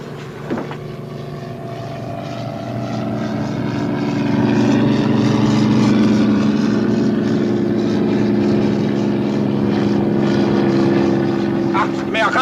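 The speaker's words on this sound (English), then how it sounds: "Amerikanische Flugzeug!" Propeller airplane passing over in a 1963 World War II television drama, a steady droning engine rumble that swells louder toward the middle and holds, with shouted voices briefly over it.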